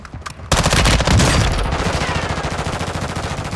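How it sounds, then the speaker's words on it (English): Automatic gunfire rings out close and loud in an online squad shooter game, a rapid rattling burst of shots starting after a few brief pops and running steadily to the end. "They're probably gonna start shooting at me."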